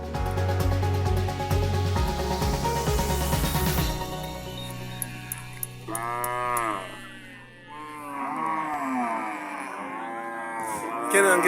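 Ankole Longhorn cattle moo repeatedly from their pens, several loud, drawn-out calls overlapping one another against steady farm background noise, with no talk over them.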